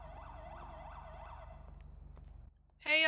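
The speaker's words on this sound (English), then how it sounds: "I thought I heard other sirens." A police siren in GTA roleplay wails, cycling up and down at moderate distance, then cuts out, followed by a short burst of a harsher electronic tone.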